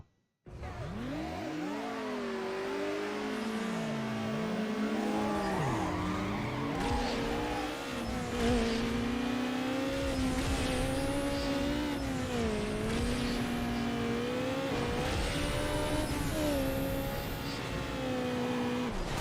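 An Acura Integra drag races in the PS2 game Need for Speed Underground: a continuous engine roar rises and falls through gear changes and revving, with tire squeal, loud and steady throughout, no talk.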